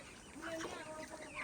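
Chickens clucking at a poultry farm among a flock where a few birds are lame or one-eyed, a short soft burst of clucks under a faint background.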